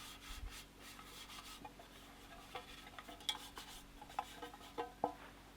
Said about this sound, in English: Just a bit of flour into the baking tray as well. Rub around the sides.